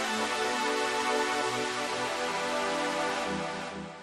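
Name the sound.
synthesizer string pad playing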